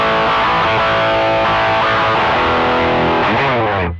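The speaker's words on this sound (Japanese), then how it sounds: "パワースタックの音を見ていきたいと思います。" Gibson ES-335 guitar driven through a BOSS ST-2 Power Stack distortion pedal, pushing a dense, saturated chord riff with heavy low end that plays loudly for several seconds and then cuts off abruptly.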